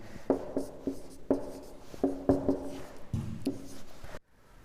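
Pen strokes scratch across paper in short, separate bursts as a trigonometry table is written out, close and fairly faint, ending in near silence.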